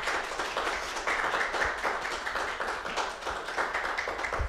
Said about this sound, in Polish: Poprosimy o brawa, tak.